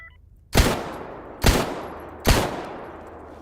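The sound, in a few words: gunshots from an enemy in a video game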